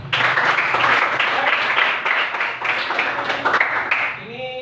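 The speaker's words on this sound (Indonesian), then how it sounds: "Oke, kita aplaus." Students applaud together in a classroom, a dense wash of clapping that stays loud and steady for several seconds before tapering off, with voices mixed in underneath.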